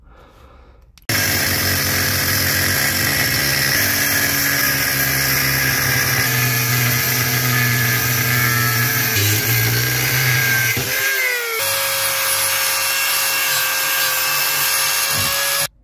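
A loud power tool cuts and trims metal under a BMW E36 seat, running continuously for about fourteen seconds with a brief dip near the end, then cutting off abruptly.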